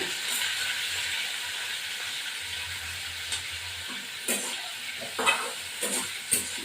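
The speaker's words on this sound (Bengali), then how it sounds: "তেল দিয়ে আমি এই কপিগুলোকে ভাজবো" Boiled cauliflower pieces fry in oil with a steady, fairly quiet sizzle and hiss, broken by a few brief clatters of stirring near the end.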